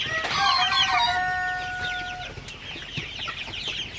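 Chickens cluck and call in a Sonali super hybrid poultry farm, with one long drawn-out call standing out near the start and a busy chorus of birds continuing behind it.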